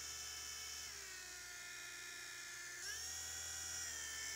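A V911 four-channel micro helicopter's tiny electric motor whines steadily at high pitch, its speed changing as the control value shifts, dipping and then rising again midway, with no talking.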